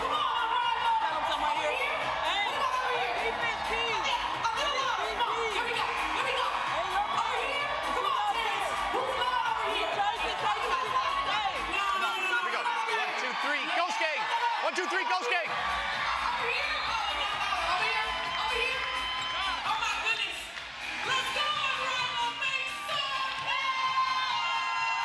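A packed arena crowd at a women's basketball game in Miami roars and cheers continuously, with whoops and shouts layered through the din and close voices talking now and then.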